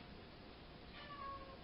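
A domestic cat meows faintly in the background of a quiet room, one thin drawn-out call rising above low hiss and murmur.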